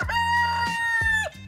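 A rooster crows close and loud in one sustained, wavering cock-a-doodle-doo, with a few softer clucks and farmyard noises around it and no talking.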